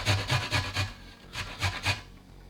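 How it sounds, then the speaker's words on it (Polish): About 4 cm of fresh ginger rubbed across the fine holes of a grater, a close rasping scrape repeated in quick strokes, four in a burst, a pause, then two more. "Ścieram go na oczkach lub tnę nożem bardzo drobno."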